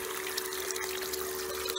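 Water washes sand across a spiral gold panning wheel in a continuous soft trickle, with a steady faint motor hum underneath.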